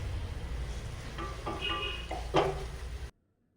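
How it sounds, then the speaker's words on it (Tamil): Mint and coriander leaves sauté in a pan for biryani, giving a faint sizzle with a few spatula scrapes and clinks against the metal before the sound cuts to silence. "அதையும் சேர்த்து இப்போ வதக்கிடலாம்."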